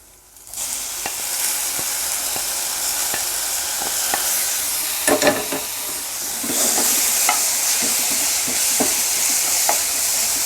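Pineapple pieces sauté steadily over low heat in a hot pan for Kerala-style pineapple pachadi, with repeated scraping and clicking as they are stirred, close and fairly loud, no voices.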